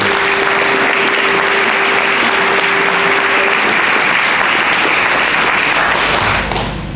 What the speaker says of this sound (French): On peut les applaudir, je pense qu'ils le méritent.